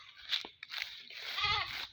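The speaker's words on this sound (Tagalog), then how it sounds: "Puntahan muna natin yung mga kambing natin." Farm goats bleat in a few wavering, nasal calls, the longest coming near the end, with people speaking close by and a faint crunching in between.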